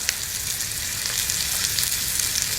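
Close, steady sizzling of filet steak frying in a hot pan, a dense crackle with small pops, continuous and without voices.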